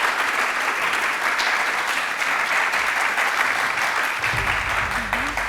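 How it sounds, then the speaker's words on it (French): Steady, loud applause from a crowd that keeps going without a break, with a few voices faintly mixed in. "Applaudissez pour elle."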